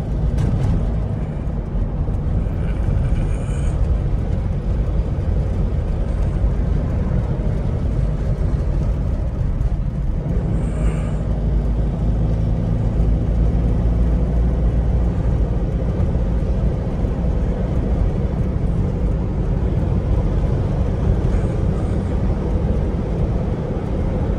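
A Toyota Innova driving and overtaking on a road in the Konkan, a loud constant engine and tyre rumble heard from inside, briefly easing and then building again.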